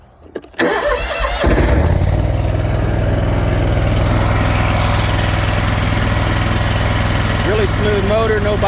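A 60-inch Hustler X-ONE commercial zero-turn riding mower engine cranks briefly, catches and settles into a steady, loud, even idle close by.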